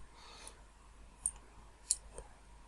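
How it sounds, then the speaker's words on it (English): A few faint, soft clicks of a computer mouse, spaced irregularly against a quiet background. "Click on Start."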